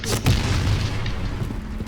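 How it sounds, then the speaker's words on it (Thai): Booming explosions from the Point Blank shooter game on a warship map thud loudly in quick succession, with a heavy low rumble lingering under a faint voice. "ระเบิดได้เยอะแยะหมดเลยเนี่ย"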